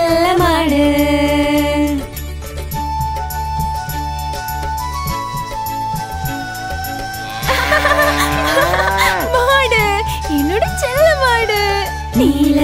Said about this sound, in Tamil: மாடு செல்ல மாடு